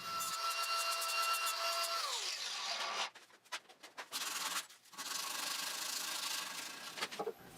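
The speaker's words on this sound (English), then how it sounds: "I used a sanding attachment in my angle grinder to clean up the edges" Harsh, steady abrasive grinding of an angle grinder with a sanding attachment against wood edges of a step stool, continuous and close, with brief pauses and shifts in pitch as the tool moves along the edge.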